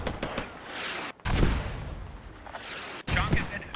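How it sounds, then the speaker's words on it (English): A mortar barrage in the video game Operation: Shockwave lands as two heavy, booming impacts several seconds apart, with crackling gunfire and a voice talking over the battle between them. "Mortars take out Lord Shock."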